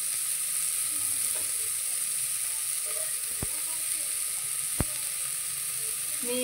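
Vegetables frying in a pan for pulao, a steady broadband sizzle throughout with a few sharp utensil clicks near the middle and end.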